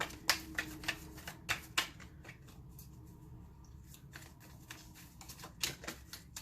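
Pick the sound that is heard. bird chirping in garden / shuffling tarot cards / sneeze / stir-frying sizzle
shuffling tarot cards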